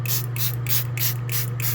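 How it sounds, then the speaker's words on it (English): A handheld water spray bottle mists a sourdough loaf just before baking, giving about seven quick, evenly spaced hissing squirts over a steady low hum. "I'm going to spray my bread down because my oven's ready"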